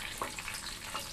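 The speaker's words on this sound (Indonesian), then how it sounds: "Kulnya mau tak goreng bentar, sedikit aja." Cabbage (purple cabbage) sizzles in a pan, being fried for kupat tahu, a soft, steady crackle with faint pops, quiet and close, no talk.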